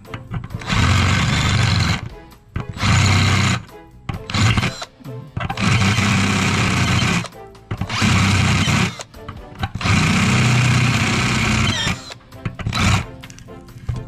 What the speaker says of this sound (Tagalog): ika-counter natin yan guys using a 5/16, 3/8 or any drill bit na medyo malaki